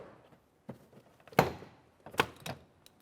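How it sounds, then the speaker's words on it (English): Plastic trim tool prying a door panel away on a Toyota Sienna minivan, giving a few close, sharp thunks and pops as clips release, separated by brief quiet gaps. "Gently make your way in between and start prying that door panel away."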